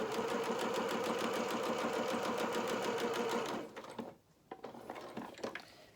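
A sewing machine runs steadily while stitching a lined doll jacket with tails, a fast even needle rhythm up close, then stops partway through, leaving small handling clicks and rustles.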